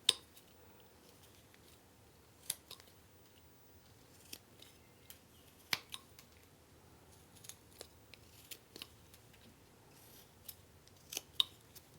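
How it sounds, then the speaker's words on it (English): Quiet, sparse knife cuts into a small one-inch wooden blank while carving a simple spoon-man figure, sharp little snicks and scrapes scattered irregularly across the stretch with near silence between. "I'm going to extend this top cut over, angling it downward a bit."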